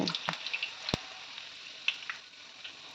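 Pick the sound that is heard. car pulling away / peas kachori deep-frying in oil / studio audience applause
peas kachori deep-frying in oil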